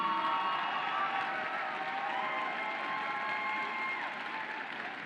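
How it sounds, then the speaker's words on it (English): Crowd applause at a 2025 FIRST robotics district event at UNH, sustained clapping with some cheering in a large arena hall, heard at a moderate distance and easing slightly toward the end. "give another huge round of applause for all of our amazing coaches and mentors."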